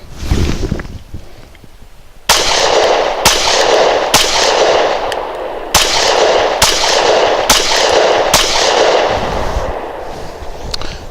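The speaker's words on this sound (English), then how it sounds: "Got 8 rounds to burn here." A Kel-Tec PF-9 pistol fires a full magazine, eight loud, close gunshots in an uneven sequence with sharp reports and ringing echo between them.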